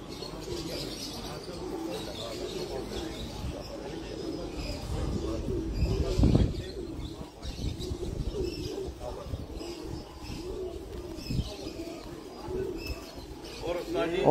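Pigeons coo steadily nearby on a large rooftop loft in Dubai while people talk over them outdoors, with occasional wing flutters and a brief louder thump midway.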